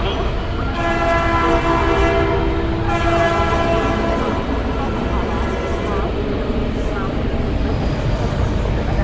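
A train rumbles at a railway station as a radio drama effect, a loud continuous roar with a sustained horn blast near the start and clattering throughout.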